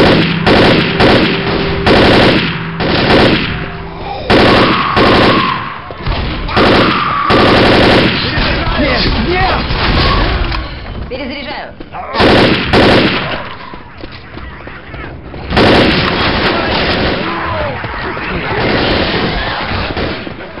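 Rapid automatic gunfire and pistol shots in the Left 4 Dead zombie shooter on The Town level, loud and nearly continuous bursts with brief pauses between volleys.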